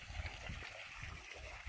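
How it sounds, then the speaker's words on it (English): Water from a backyard pool waterfall and slide pours in a steady, close gush with a faint trickling edge, running without a break. "the waterfall, water slide"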